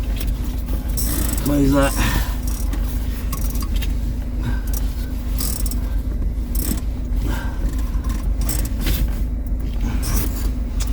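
Motorhome engine cranking and catching, then a steady mechanical rumble with clunks and rattles as the van moves off, while a voice speaks briefly over it.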